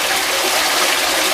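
Forceful water jets from a single spray bar tip into a tank, a loud, steady hissing rush that holds without a break.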